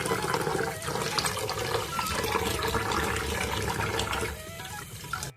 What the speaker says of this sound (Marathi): तांदूळ चांगले पाण्यात धुवून घ्यायचे